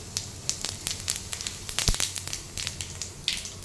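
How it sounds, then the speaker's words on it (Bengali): Whole cumin seeds crackle and sizzle in hot cooking oil in a pan, a steady close hiss broken by sharp popping bursts throughout, with no talking. "আগে তেলের মধ্যে গোটা জিরে এটাতে দিয়ে দেব।"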